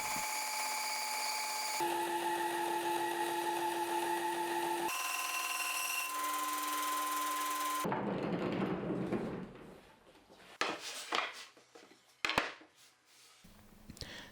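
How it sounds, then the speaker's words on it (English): A bandsaw trimming wood to thickness runs as a steady, close machine whine for about eight seconds, its pitch stepping between tones. It then falls quiet, followed by scattered knocks, rubs and handling of the wood. "Now I'll use the bandsaw to trim the wood down to the proper thickness."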